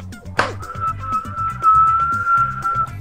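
A person whistles a sustained, wavering tune, close and clear, over a steady background of muffled music or game sound with a short sharp burst at the start.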